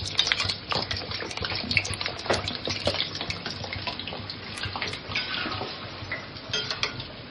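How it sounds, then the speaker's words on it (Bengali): Potatoes deep frying in hot oil in a home kitchen: a dense, steady bubbling crackle with frequent sharp spits and clinks of utensils, close and continuous throughout. "এবার আলুগুলো এতে দিতে হবে, দিয়ে পুরো ডিপ ফ্রাই করতে হবে আলুগুলো দিয়ে।"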